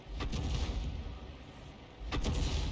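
Two heavy booming artillery shots from a 105 leFH18B2 self-propelled howitzer in a tank battle game, the first near the start and the second about two seconds later, each followed by rumbling low-end decay.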